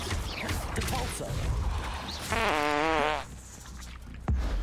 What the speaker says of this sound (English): Who is farting my stream?